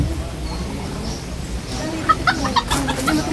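A chicken gives several short, sharp clucks near the end, close by, over a low outdoor rumble.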